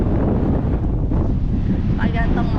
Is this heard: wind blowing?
yes